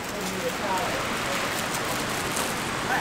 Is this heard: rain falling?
yes